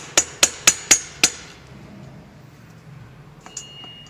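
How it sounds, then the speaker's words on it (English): A hammer lightly taps a flathead screwdriver to free the end bracket of an Elektrim X1 Series electric motor: five sharp, evenly spaced metallic strikes close up, then quiet with a faint clink near the end. "Hammer and a flathead screwdriver does the trick. Just lightly tap it and it'll come free."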